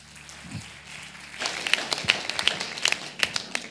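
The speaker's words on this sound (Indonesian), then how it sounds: "Tepuk tangan buat Tuhan." A church congregation at a Christmas service claps along in quick, sharp, uneven bursts that build after a quieter start, loud and close within a large room.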